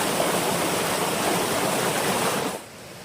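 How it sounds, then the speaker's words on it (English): Waterfall on a hiking trail at Stone Mountain, a steady dense rush of falling water filling the clip at close range until it drops off sharply near the end. "Finished looking at the waterfalls."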